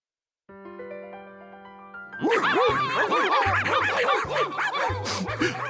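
In a children's cartoon, a sustained musical chord gives way to a noisy burst of nine dogs barking and yipping excitedly together over low horn-like notes.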